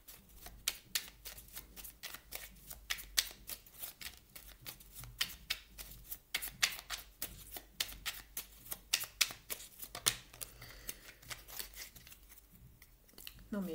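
Tarot cards being shuffled and drawn during a reading, a close, steady run of crisp riffling and flicking clicks over about fourteen seconds, with faint talk at times.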